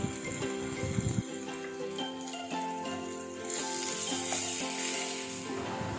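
Onions sizzle and crackle steadily in a hot pan, growing a little louder and brighter partway through, with no talking.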